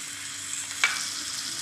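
Chili powder and turmeric sautéing in a miniature pan, with a soft, steady frying hiss and one brief scrape of a utensil partway through.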